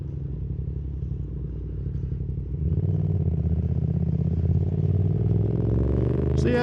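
A motorcycle engine idling with a steady low chug that rises into a louder, continuous revving drone as the not-yet-warmed bike pulls away, heard close and alone.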